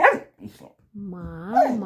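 A dog lets out a drawn-out, wavering bark that rises into a whiny yowl, close by, following brief murmuring voices.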